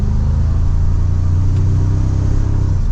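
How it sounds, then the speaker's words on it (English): A 2024 Toyota Tacoma Trailhunter pickup accelerating mildly in sport mode, its engine giving a loud, steady low rumble with a slowly rising drone heard from inside the cab. "We'll put it into sport mode and we can give it some gas here."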